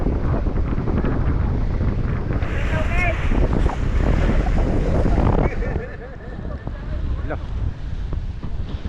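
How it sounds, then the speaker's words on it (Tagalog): Strong waves rushing and splashing against a boat in the West Philippine Sea amid gusty wind buffeting the microphone, with faint voices in the background. "malakas ang alon dito"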